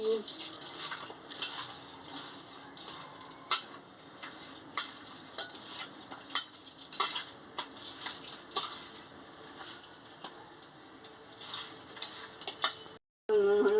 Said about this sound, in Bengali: নুনটা দিয়ে দিচ্ছি দিয়ে ভালো করে মাছটাকে মাখিয়ে নিচ্ছি